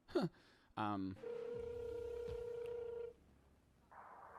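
A phone is dialed with a quick run of keypad tones. A steady ringback tone follows and holds for a couple of seconds. Then comes a short click and a quieter hum as the call connects.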